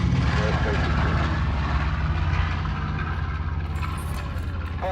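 At an air show in Columbus, Ohio, a B-25 bomber's radial propeller engines roar steadily through a takeoff run, a dense continuous drone with an announcer's voice speaking over it.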